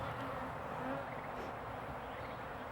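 Honey bees buzz around an open nucleus hive during installation, a dense, steady, faint drone of many insects close by.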